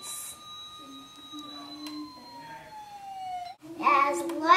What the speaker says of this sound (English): It has lights and sirens.